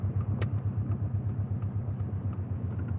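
An Amazon delivery truck's engine rumbles steadily nearby as it passes, with faint clicks and rattles over the low drone.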